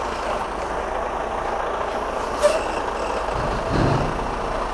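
A FedEx delivery truck manoeuvres on a snowy street after a snowstorm, its engine rumbling steadily with a short hiss near the middle and a low surge of revving toward the end.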